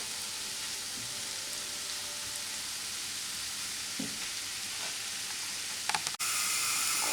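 Onions frying in a pan on the stove, a steady close sizzle with a brief clatter near the end and a louder burst of crackling as something is stirred or added.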